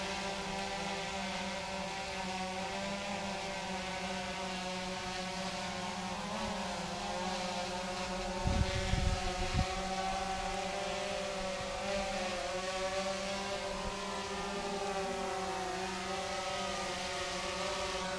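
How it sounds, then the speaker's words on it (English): A drone hums steadily overhead outdoors, a sustained buzzing whine with layered harmonic tones that shift slightly in pitch as it moves, with a brief thump of handling noise midway. "I'm gonna fly it over near the car."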